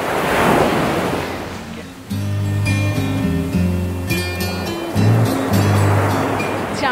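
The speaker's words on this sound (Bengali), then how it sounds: "একদম নিস্তব্ধ, শান্ত, শুধুই সমুদ্রের গর্জন।" Sea waves roar and wash steadily onto a beach at night, loud and continuous, with an engine-like hum and some tonal noise mixed in partway through.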